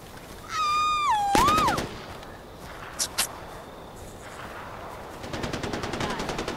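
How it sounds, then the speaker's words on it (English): Gunfire from guns shot into the air in the Far Cry 4 video game: a rapid automatic burst, a couple of isolated sharp shots, then a longer rattling volley, mixed with other game sounds and a whistling tone. "Oh, they're just firing up in the air."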